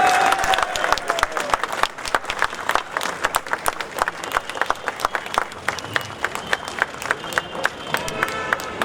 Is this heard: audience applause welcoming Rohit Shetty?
yes